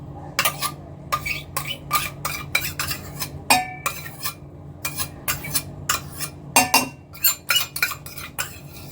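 Metal utensils clink and scrape against a bowl while a salted diet salad is tossed and mixed, making a steady series of sharp taps and knocks, close up with short pauses in between.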